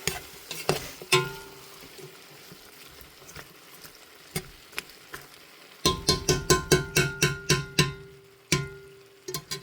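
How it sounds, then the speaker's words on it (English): Rotel tomatoes being stirred into a pot of Italian cabbage soup over medium-low heat, with a spoon clacking against the pot in irregular knocks, then a quick run of sharp, regular scrapes and taps near the end. "Now I've added the Rotel tomatoes to the mix. We're going to stir that up."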